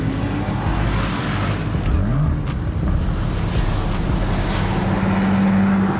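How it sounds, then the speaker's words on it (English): An exotic car at a summer car meet with a lineup of cars roars loudly and continuously up close, its engine note surging and climbing briefly midway, with no talking over it. "That car sounds crazy."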